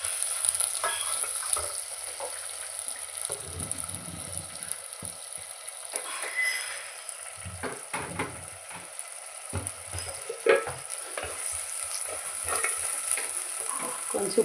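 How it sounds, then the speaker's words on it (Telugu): Tomato frying in a pan with ginger garlic paste, onion and green chilli, giving a steady close sizzle with scattered crackles and a few stirring scrapes. "అల్లం వెల్లుల్లి పేస్ట్, ఆనియన్, పచ్చిమిర్చి వేగిపోయిన తర్వాత టమాటా వేస్తున్నాను."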